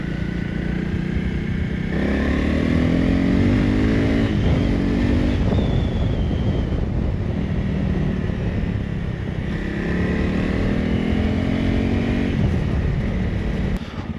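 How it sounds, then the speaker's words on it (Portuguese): A Honda CRF 300 Rally motorcycle ridden along an unpaved dirt road, its single-cylinder engine droning loudly and steadily at speed, with rises and falls in pitch as the rider shifts and changes throttle. "Mas andar em plano com esta moto, anda-se a 80, 90, em sexta"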